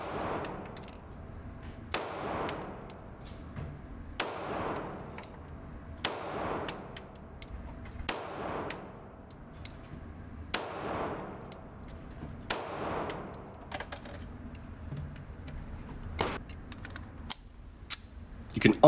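A Sig P226 pistol fired at a target, sharp single shots spaced roughly every two seconds, each with a short ringing tail, then a quicker run of shots toward the end, fairly loud and near.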